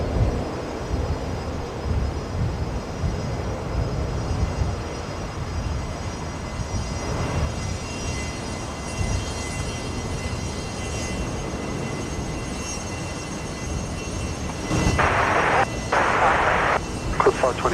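Beechcraft King Air turboprop on short final into Brisbane Airport, a steady distant engine drone with a faint high whine, mixed with ambient noise and voices talking nearby.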